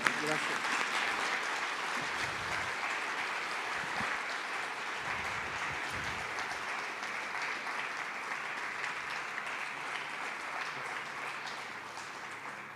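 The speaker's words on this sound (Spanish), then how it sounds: "un fuerte aplauso también para Osvaldo por estar acá." Sustained applause from an audience at a tribute event, steady dense clapping filling the room for the whole stretch, fading slightly toward the end.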